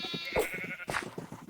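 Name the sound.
sheep bleating in Minecraft video game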